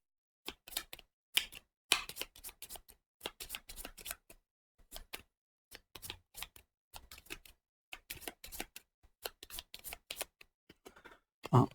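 Cards shuffled by hand for a solo game of the board game Nemesis, a long run of quick riffling, flicking bursts broken by short pauses, close and fairly quiet with no talk over it.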